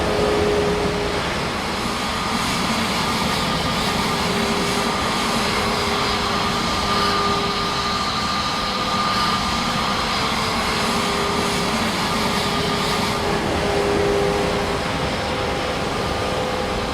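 An airliner's jet engines spool up steadily during engine start in Microsoft Flight Simulator 2024 at Toronto Pearson, giving a continuous, loud roar and whine that holds for the whole stretch with no gaps.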